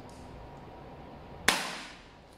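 A single sharp shot from an Action Army AAP-01 toy gun cracks out at mid-clip over a quiet room hum, its bright snap trailing off in a short fading tail.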